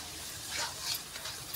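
Tomato paste masala cooking in a pan for paneer curry, a faint, steady sizzle with light stirring scrapes across a short stretch.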